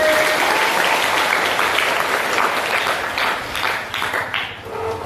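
An audience claps hands together in a classroom-style session, a dense burst of applause that thins and fades toward the end of about five seconds.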